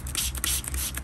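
Diluted hydrogen peroxide solution sprayed onto an orchid around its base: a few quick close hand-sprayer hisses in rapid succession over a low background rumble.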